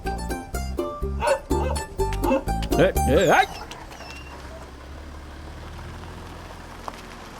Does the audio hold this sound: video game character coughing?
no